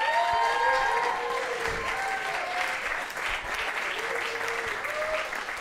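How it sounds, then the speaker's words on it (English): A comedy show audience claps steadily and loudly for the comedians, a continuous crowd applause with faint whoops and voices mixed in, holding strong throughout. "I'd like you to give them a round of applause"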